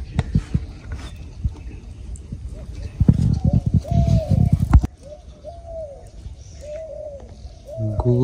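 Dove cooing near a village pond at fishing time, a few soft repeated coos following a stretch of louder splashing and handling noise, with faint chirps around.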